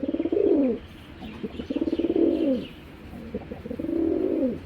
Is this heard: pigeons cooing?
yes